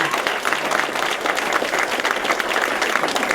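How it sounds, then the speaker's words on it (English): A Pecha Kucha night audience giving one more round of applause, loud and sustained clapping from many hands, dense and even for the whole stretch. "one more round of applause"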